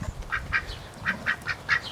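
Several ducks quack in short nasal bursts, about seven calls in two seconds, close by and fairly quiet, with no one talking over them.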